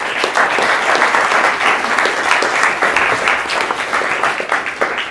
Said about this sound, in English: So I think everyone should give them a round of applause.